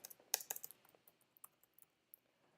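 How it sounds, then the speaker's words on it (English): Faint, quick keyboard taps on a computer keyboard, a brief burst of clustered clicks followed by a few sparse, isolated keystrokes in a quiet room. "I might just type in a generic item down here"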